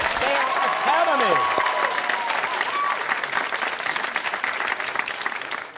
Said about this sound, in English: Nice round of applause, Thayer Academy.